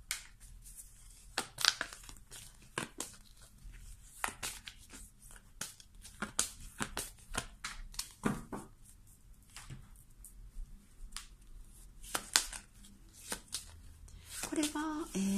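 Well-used tarot cards being shuffled and handled in a quiet room, giving irregular soft riffling and slapping bursts spread across the whole stretch, with brief crinkly touches near the end.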